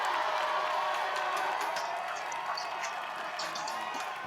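A crowd at an American Ninja Warrior semifinal cheers on a competitor facing the invisible ladder obstacle, a continuous roar of voices with scattered shouts and clapping, loud and sustained throughout.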